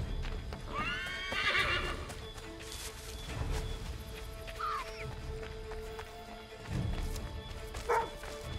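A horse in Assassin's Creed III whinnies and snorts nearby with soft hoof clip-clops, set against a quiet game ambience.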